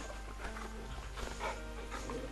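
A dog in the video game Final Fantasy XVI gives soft whimpering barks over a constant dense background of game ambience and music.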